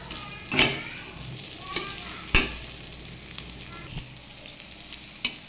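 Colocasia greens with chickpeas fry slowly in a pan while a spatula turns them, a soft continuous sizzle broken by a few sharp scraping strokes spaced about a second apart.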